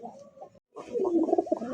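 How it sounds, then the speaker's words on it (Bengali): Rasgolla (rajgolla) pigeons, a male and female pair, coo softly and repeatedly in a close, rolling sequence after a brief pause, the calls swelling louder in the second half. "অনেক সুন্দর রাসগোল্লা মাশাআল্লাহ ডাকতেছে"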